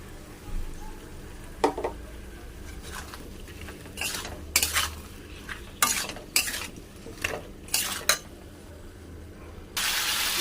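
Coriander and cumin powder with Kashmiri chilli are stirred and fried in a pan for a cabbage dish, heard as a soft sizzle under sharp metal spoon scrapes and clinks against the pan in an irregular series.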